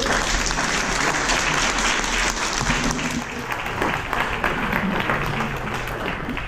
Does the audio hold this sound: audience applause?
yes